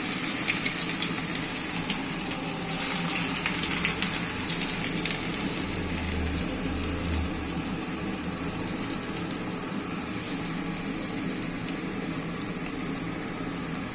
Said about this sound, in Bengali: এবার দেখো, গরম তেলের মধ্যে রসুন ছাড়া হচ্ছে, রসুন কুচি